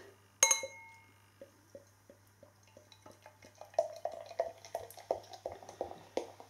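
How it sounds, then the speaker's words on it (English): Broughton Ales Proper IPA, a 6% beer, is poured into a glass, opening with a sharp clink followed by a soft, rising run of gurgling and fizzing splashes, close and quiet, with no talk. "Beer in the glass."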